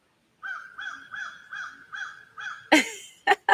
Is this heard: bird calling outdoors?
yes